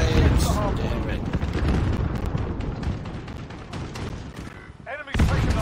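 Grenade blasts and gunfire from the shooter game Modern Warfare, on a houseboat map: dense, continuous booming and rattling shots fill the scene, with game voices talking over the chaos and a brief lull before another burst.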